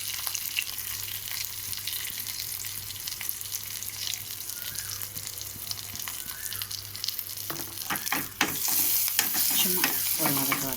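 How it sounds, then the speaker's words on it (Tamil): Curry leaves and asafoetida tempering in hot oil for a chickpea kuzhambu, crackling and sizzling steadily up close while a spoon stirs and scrapes in sharp clicks toward the end, with no talk. "கருவேப்பிலை போட்டு நல்லா ஒரு கிண்டு கிண்டிட்டு இந்த ஸ்டேஜில் இதில் இப்போ பெருங்காயம் ஆட் பண்ணிக்கலாம்"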